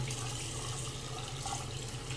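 Warm water runs steadily from a tap over the blade of an old balisong butterfly knife during cleaning, a continuous close splashing rush with no voices.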